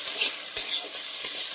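Maggi soup ingredients frying and being stirred in a pan, a steady close sizzle broken by a few sharp scraping strokes from the spatula, with no voices.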